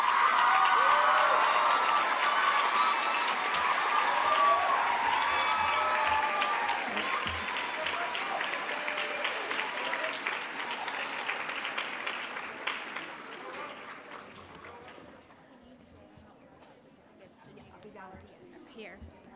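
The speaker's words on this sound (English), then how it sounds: "Dancers, please face the audience for a round of applause." An audience at an 8th grade school promotion ceremony applauds the dancers, loud sustained clapping with some cheering that gradually fades to a few scattered claps.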